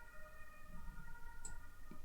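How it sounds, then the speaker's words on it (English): An ambulance siren wails faintly in the distance, its steady tones drifting under a low room background, with no voices. "Ambulance is on the way for someone."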